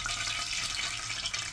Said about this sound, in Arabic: اسمع لما انزل صوت طشه ميه